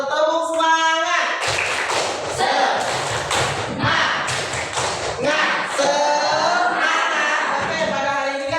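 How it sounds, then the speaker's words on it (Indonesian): A school class does the rhythmic 'tepuk semangat' clap together in a fast, patterned burst of hand claps, with voices chanting before and after the clapping. "kita tepuk semangat dulu ya, biar pelajaran kita pada hari ini semangat"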